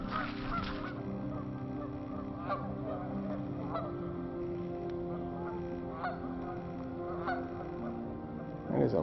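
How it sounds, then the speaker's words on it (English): A flock of geese honks continuously, a dense overlapping chorus of calls close by. "I think we woke up the geese."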